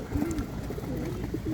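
Pigeons at a home coop coo softly in low, rounded repeated calls, fairly close but quiet over a faint background murmur.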